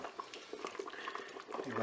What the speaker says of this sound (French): je vais laisser encore mijoter 2 petites minutes.